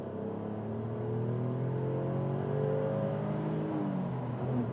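The 3.2 V6 engine of an Alfa Romeo Brera Q4 revs steadily, its droning pitch rising and falling smoothly for several seconds, heard from inside the car with no talking.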